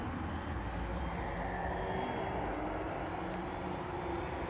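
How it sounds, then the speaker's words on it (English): Aircraft engines spool up at East Midlands Airport, a steady broadband roar with a rising whine, distant but constant throughout, with no pauses. "You can hear them starting the engines up."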